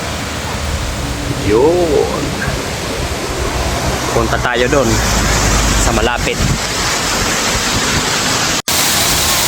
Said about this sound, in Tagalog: Oh, yan ang Corpacan Falls.